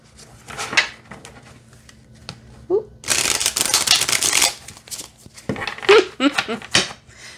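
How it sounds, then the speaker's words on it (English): Tarot cards riffle and shuffle in a couple of loud bursts, close up, with soft handling noises and a person speaking quietly in between. "Okay, so let's see how it shuffles."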